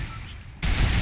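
A loud gunshot burst in Fortnite Battle Royale, a single heavy blast cutting in abruptly after a quiet lull and ringing out sustained and dense to the end, with no talk over it.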